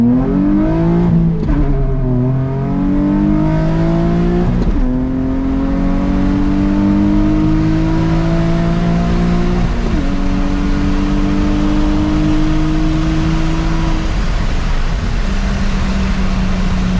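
A Nissan 350Z fitted with a Circuit Werks resonated Y-pipe accelerates hard through several gears, its engine note rising steadily then dropping at each shift, a loud continuous drone heard from inside the car with no talk.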